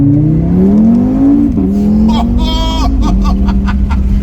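A tuned Audi RS3 Stage 1 engine at 420 hp, rising in a loud, rich rev right after a paddle-shift downshift. The pitch climbs steadily with crackles near the top, heard up close with the engine drowning everything else.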